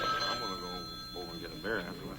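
A red telephone rings in a movie scene, with bright repeated bell tones sounding under overlapping dialogue.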